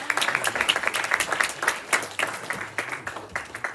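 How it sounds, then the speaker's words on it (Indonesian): A church congregation at an Easter service applauds, a moderate, quiet round of clapping with distinct individual claps that thins out toward the end. "Tepuk tangan buat kalian semua dong."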